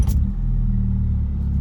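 An Audi fitted with air suspension and a new turbo intake starts up again, with a quick crank and then a steady low idle rumble, close and alone.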